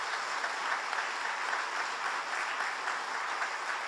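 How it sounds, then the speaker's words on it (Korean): Church congregation clapping together at a Friday all-night worship service, a steady dense applause filling the hall from start to finish with no voices over it. "우리 서로 격려 박수 한번 해"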